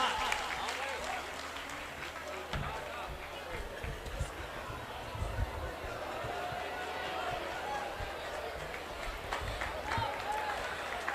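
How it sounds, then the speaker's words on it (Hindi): A poetry-gathering audience at a kavi sammelan claps to welcome a poet, a steady wash of applause with voices talking and murmuring underneath throughout. "भाई अब्दुल गफ्फार को आप सबकी जोरदार तालियां आमंत्रण दें"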